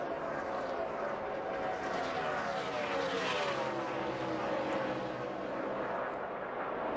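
NASCAR stock cars racing in the 2005 Brickyard 400 at Indianapolis, a steady broad engine roar with cars sweeping past, sustained and moderately distant for the whole stretch.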